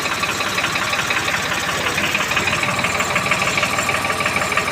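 A tractor engine runs steadily nearby with a rough, even chugging drone and a continuous rattling idle throughout, with no talk.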